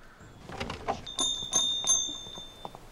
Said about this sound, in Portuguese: Campainha legal. Tem um bom som.